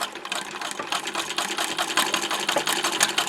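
A domestic sewing machine fitted with a darning embroidery foot stitches steadily, its rapid needle rhythm whirring close up and loud, with no talking.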